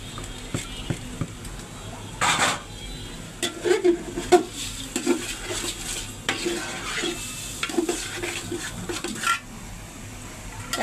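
Lentils are tipped into a pot of fried spiced masala for bhuna khichuri and stirred with a spoon that scrapes and clatters against the metal, in irregular close bursts over a soft background sizzle.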